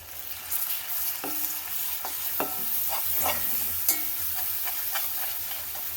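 Onions and green chilies fry in coconut oil with a continuous crackling sizzle, broken by repeated spatula scrapes and stirring clicks at an uneven pace, close and moderately loud, with no voices.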